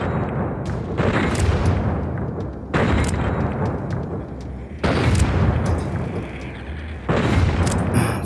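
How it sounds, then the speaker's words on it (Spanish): Gunfire from the video game Fallout New Vegas, with four heavy, booming shots a couple of seconds apart, each followed by a long rumbling decay that fills the gaps, loud and without speech. "Fallé los últimos dos tiros."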